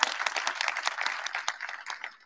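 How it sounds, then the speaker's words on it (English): Audience applause at a university nursing pinning ceremony, a dense steady patter of many hands clapping at moderate distance, filling the room throughout. "So can we give them a round of applause for that real quick?"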